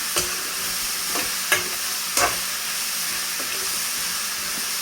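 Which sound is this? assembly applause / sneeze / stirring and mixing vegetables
stirring and mixing vegetables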